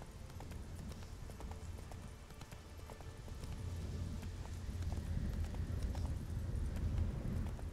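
Roach the horse gallops in The Witcher 3 video game, a continuous rapid hoof clatter under a low rumbling bed of game ambience, growing slightly louder toward the end.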